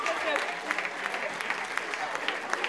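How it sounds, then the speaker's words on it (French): An audience at a stage show in Montreuil applauds the performers after months of work, a steady, dense patter of clapping that carries through the whole moment, with a voice talking faintly over it. "On va applaudir les filles une dernière fois."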